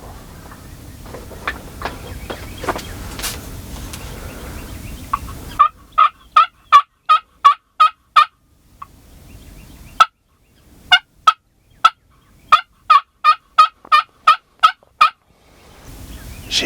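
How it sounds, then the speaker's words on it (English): Wild turkeys gobble during a spring hunt in Kansas, sounding loud, rattling bursts in quick repeated runs with short pauses between them, close by in a quiet field, with some faint earlier calls and rustling. "we got more birds coming"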